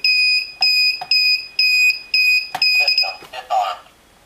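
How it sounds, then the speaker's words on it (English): A security alarm system, triggered by a zone sensor strip, beeps loudly in a fast repeating pattern of sharp tones, followed by a few clicks and a short electronic chirp as it stops. "you can see it triggered the alarm on zone 33"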